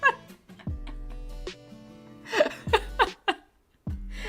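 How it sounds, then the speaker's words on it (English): A cat screaming outside a door gives drawn-out, wavering yowls, heard indoors next to laughter and chuckling. "I heard my cat just scream outside the door"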